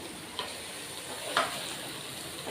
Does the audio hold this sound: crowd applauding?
no